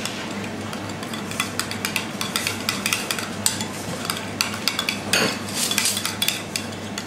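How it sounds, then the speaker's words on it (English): Prawn cocktail sauce with Tabasco and cognac is stirred briskly in a bowl, with rapid close clinks and scrapes of a utensil against the dish, unbroken and with no one talking. "And for the chefs, a little drop of cognac. Just there, mix it all up."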